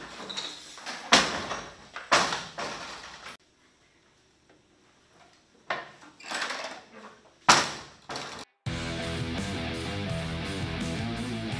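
A bathroom stall door in a high school is latched shut during active-assailant training, with several sharp knocks and clacks in irregular bursts, a quiet gap, then a steady mechanical hum at the end.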